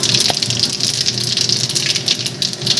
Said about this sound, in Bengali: জিরাটা আমি তেলের মধ্যে দিয়ে দিলাম